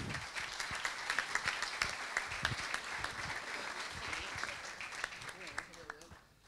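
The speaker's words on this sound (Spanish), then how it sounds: "Os pido un aplauso para ellos." Audience clapping at an international volleyball congress hosted by the Catalan Volleyball Federation, sharp claps in a steady patter that thins out toward the end, with some voices mixed in.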